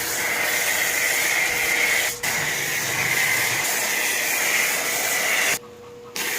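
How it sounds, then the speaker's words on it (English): Steady loud hiss of a pressure sprayer soaking a car engine bay with soapy water, continuous with a brief dip near the middle and a short pause near the end. "Now we'll start by soaking it with soapy water."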